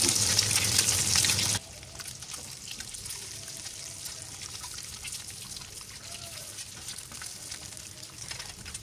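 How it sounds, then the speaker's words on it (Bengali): Eggs fry in hot oil in a pan, a steady crackling sizzle; a loud hissing burst at the start drops to a continuous softer spatter. "এখন ডিমগুলো আমি এখানে ভেজে নিব।"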